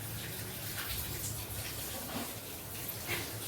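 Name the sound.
cooking oil being poured into a pan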